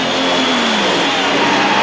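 NHRA drag racing cars at the 1992 Autolite Nationals at Sears Point, California, launching hard down the strip, a loud sustained engine roar with rising pitch that fills the whole moment.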